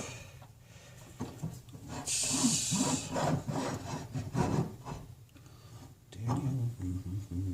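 A carbide tool cuts rosewood on a wood lathe with rough, scraping, rasping bursts that pulse in and out, one harsher hissing stretch midway, close and fairly loud, with a voice briefly in the background.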